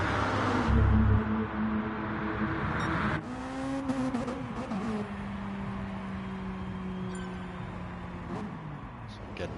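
Toyota RC race cars run hot laps on the infield circuit at Blue Moon Speedway, engines droning and shifting pitch as they pass near and fade, with a sharp change partway through and talk over the top.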